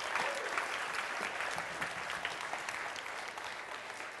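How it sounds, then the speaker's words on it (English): Steady applause from a poetry-reading audience after a mock auction, a crowd clapping in a continuous dense wash at moderate level, fading slightly toward the end with no talk. "Give that person a round of applause."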